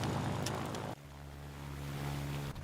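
Propeller plane engine in the video game Ground of Aces as the aircraft taxis toward the runway: a burst of broad noise gives way to a steady, loud, droning engine hum that holds to the end.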